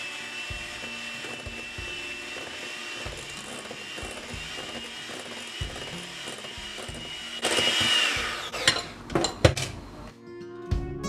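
Wires of a whisk clatter steadily against a bowl while flour is worked into Victoria sponge cake batter, a regular scraping, tapping rhythm, turning louder and more irregular with sharp knocks of utensils near the end.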